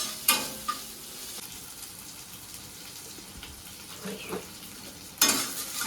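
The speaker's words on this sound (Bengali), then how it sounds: "কালো জিরে ফোড়নের সাথে পেঁয়াজ দিয়ে যে ভাজাটা" Onions sizzle steadily in hot oil with nigella seeds, a close, even hiss broken by a few sharp scraping clicks of stirring.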